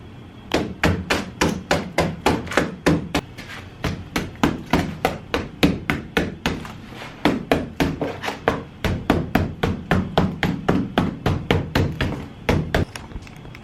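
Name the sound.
hammering aluminum foil into a dagger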